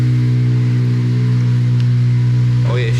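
A Honda Civic Si engine running close by with a steady low hum and harmonic drone, a rising rev sweep at the end.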